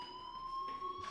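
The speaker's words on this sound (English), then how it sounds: "Do you hear that fire alarm?" A school fire alarm in the video game Life Is Strange rings steadily with a continuous, piercing electronic tone, loud and unbroken throughout.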